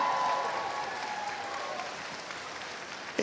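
Audience at a Doctor Who convention panel at MCM Comic Con applauding, a continuous wash of clapping from a large room, moderately distant and even, tapering slightly before a small bump at the end.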